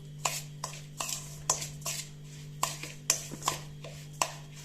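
A spoon works a dough of flour, oil, salt and water in a bowl. About a dozen quiet, regular taps and scrapes sound against a steady low hum.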